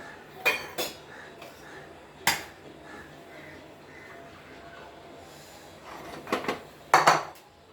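A pan of roasted semolina is lifted off a home stove, giving several sharp metallic clanks and scrapes spread out in bursts, with a brief cluster near the end. The kitchen is otherwise quiet and nobody talks.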